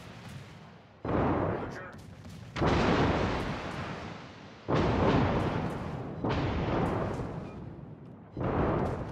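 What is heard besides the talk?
naval guns firing at target, World of Warships video game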